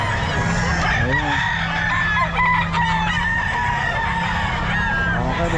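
A lemon sweater gamefowl rooster crows at a busy pet market in Bocaue, loud and close over a steady crowd murmur and clucking, while someone speaks briefly.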